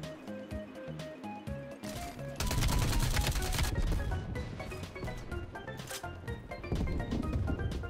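Gunfire in the shooter Black Ops Cold War, beginning with sparse single shots and then breaking into dense automatic bursts and rapid volleys, loud and close with a short exclamation from a player.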